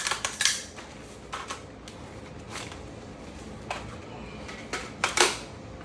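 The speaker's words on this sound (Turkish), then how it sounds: "Hemen gösterelim nasıl şarjörü değiştiriyoruz plaka taşıyıcıdan." A rifle magazine is pulled from a plate carrier vest and swapped, giving sharp metallic clicks and rattles in short clusters, near and fairly loud against a quiet background with no talk.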